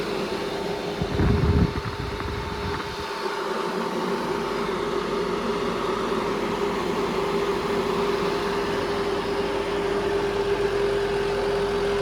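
A large Accento blower with a 28-inch fan runs at normal speed, a steady whooshing drone with a faint tonal hum, close and unchanging after a brief clatter near the start.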